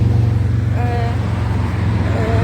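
Road traffic at a bus stop in a British provincial town, a steady close rumble of passing vehicles with faint tonal whines over it, continuous with no clear speech.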